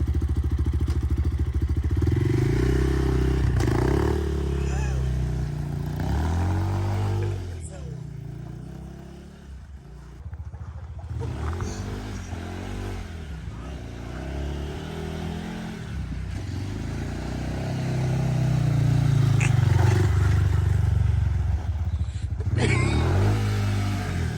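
An Avantis Enduro 2 Chinese enduro motorcycle engine revs and labors, rising and falling with clattering and thumps as it's ridden over rough ground; voices are heard at times.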